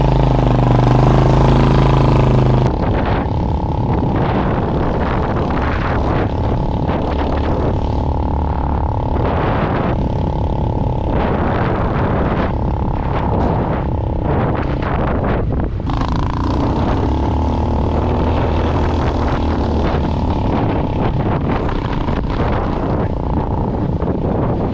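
A Venom X22 GT 250cc automatic motorcycle rides along with its engine and exhaust droning steadily, heavily mixed with loud wind buffeting the microphone, the engine note shifting as speed changes.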